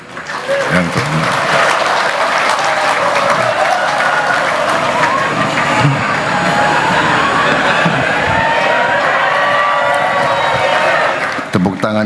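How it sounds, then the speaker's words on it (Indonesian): Long, loud applause from a large crowd at an event with Indonesia's President, continuous clapping mixed with scattered cheers and whoops, holding strong for about twelve seconds before cutting off. "Tepuk tangannya kok panjang banget."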